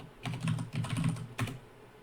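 Computer keyboard typing, a quick run of close, crisp key taps in two short clusters with a brief pause between them.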